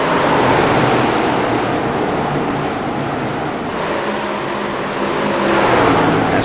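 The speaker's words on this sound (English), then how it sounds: "You hear all the high revs down. You're going to hear that all night." Race cars revving high and shifting gears at Gateway, a continuous loud roar of engines that dips slightly midway and swells again toward the end.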